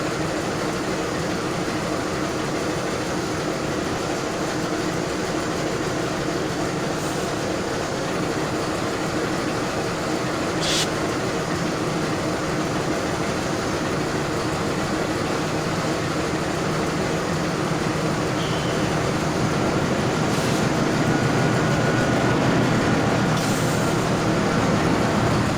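Rumble of a passing train in Trainz Simulator, an Indonesian rail scene crossing the Ranggajati express near Bangil–Sidotopo, a steady broad roar throughout with a few brief high squeals, no talking.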